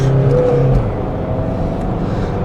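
A modified 2001 Citroën C5 2.0 HDI 109 hp diesel engine revving loudly up close, a strong whirring drone that rises briefly then holds steady, with no voices.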